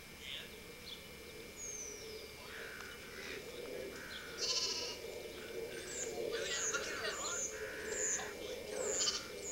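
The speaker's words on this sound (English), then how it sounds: "The two little goats fighting back there." Two young goats fight and bleat several times in quick, high calls at a distance, with scuffling movement and faint voices in the background.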